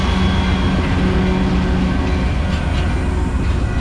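A train rolls loudly past a street crossing, a dense, continuous rumble and rattle of wheels and cars close by, with no voices over it.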